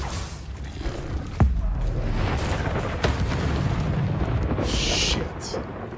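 A confringo spell explosion in the video game Hogwarts Legacy, a sudden sharp boom followed by rumbling bursts and whooshes amid continuous battle noise, with a voice speaking briefly.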